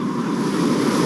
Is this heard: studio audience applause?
no